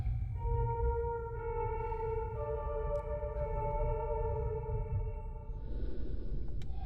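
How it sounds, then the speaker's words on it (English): Sustained piano-like tones play a slow melody inside the Fatal Frame: Mask of the Lunar Eclipse game, several held notes overlapping over a low rumbling hum, with a brief hiss near the end. "Play the piano by following the notes."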